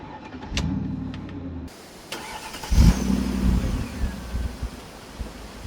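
A Mercedes-Benz W463 G55 AMG Kompressor: a few clicks and a whirring motor come first, then the supercharged engine fires with a short burst of revs and settles into a steady rumbling idle close by.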